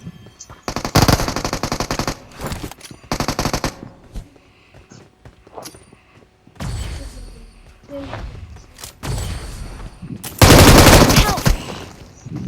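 Bursts of machine gun fire in the mobile battle royale game BGMI, several rapid loud volleys separated by short pauses and quieter gaps, with players talking between them.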